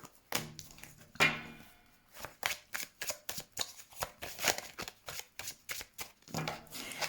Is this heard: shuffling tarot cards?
yes